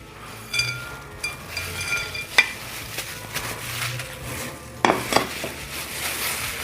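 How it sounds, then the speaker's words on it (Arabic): Nuts, raisins, coconut and peanuts stirred together in a bowl with a spoon, giving soft scraping and occasional clinks of utensil against the bowl at close range, with no talk. "أول حاجة هنخلط المكسرات."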